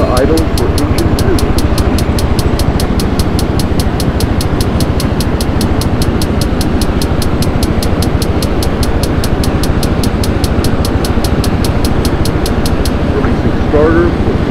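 Loud, steady turbine drone from a Hind helicopter in the game Take On Helicopters as engine 2 is throttled to idle, with a fast rhythmic rotor pulse that cuts off near the end.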